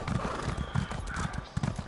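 Hooves of a horse clip-clopping in a steady, rapid gallop rhythm in the video game Elder Scrolls Online, close and fairly loud against a faint background.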